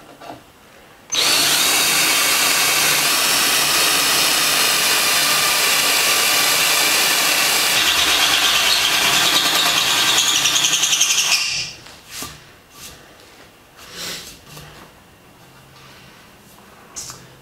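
An electric arc welds cast iron with cast iron welding rod, filling a hole in a loud, steady crackling hiss that lasts about ten seconds before cutting off into quieter scattered clinks.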